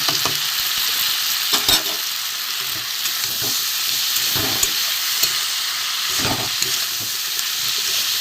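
Spices and tomato fry in a pan for a Bengali chorchori, giving a steady sizzle and hiss broken by brief scraping stirs, close and alone.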